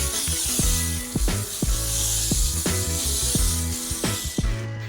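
An IK Foam Pro 12 foam sprayer sprays car-cleaning foam, giving a steady airy hiss that runs throughout over a background of repeating tonal sounds, with no talking.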